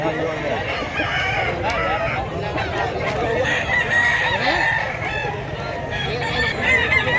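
Several roosters crow and hens cluck among the birds for sale at a market in Mantalungon, Cebu, a loud, continuous chorus of nearby fowl with people talking underneath.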